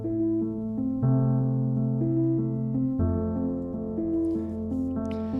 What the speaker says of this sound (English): This piano is Noir from Kontakt